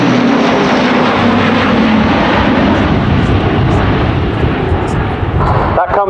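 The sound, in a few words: Airbus A400M Atlas military aircraft flying display, steep pull-up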